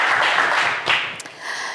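A TV game show studio audience applauds a contestant, a dense, close burst of clapping that dips briefly and swells again.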